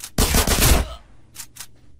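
Gunfire in the video game GTA San Andreas, a loud dense burst of automatic fire followed by two short, sharp single shots after a pause.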